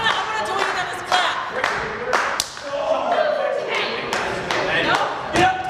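Crowd at an independent wrestling show clapping in a steady rhythm, sharp hand claps repeating about twice a second over loud, close voices and crowd noise.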